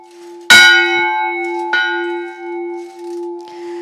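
Two loud, ringing strikes of a church bell in an 8-metre belfry in Zakarpattia, Ukraine, the first at about half a second and the second just under two seconds, each humming on with a long, sustained resonance.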